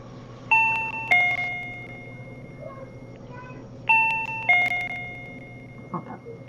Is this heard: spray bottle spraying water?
no